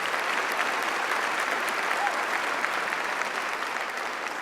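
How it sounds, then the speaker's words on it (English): Steady, dense audience applause fills a spring convocation ceremony hall, continuous and even from start to finish with no break. "Let's give him a round of applause."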